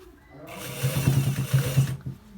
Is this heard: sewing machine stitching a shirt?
yes